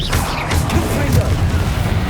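A Confringo blasting spell explodes in Hogwarts Legacy, a loud low booming rumble that sustains throughout, with brief voice sounds mixed in.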